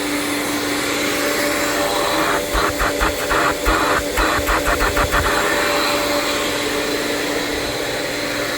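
Vacuum system on a Onefinity CNC machine table running with a loud, steady whine and hum, broken midway by a series of quick bumps and thumps while the suction keeps going.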